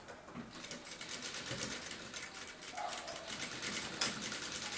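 A home sewing machine backstitches along a small Mexican-style Frida Kahlo wallet coin pocket, a steady fast mechanical whir and stitching rattle running close and continuous without pause, no voices over it.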